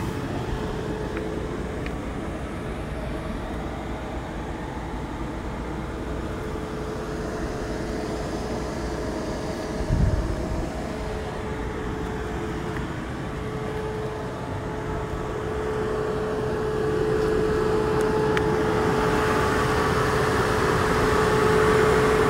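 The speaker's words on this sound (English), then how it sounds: "Now the charger is getting really, really loud again like last time." A Tesla V3 250kW Supercharger runs loudly while charging, a constant broadband roar of cooling fans with a low hum. It holds steady throughout, with a brief thump partway through and a slight swell near the end.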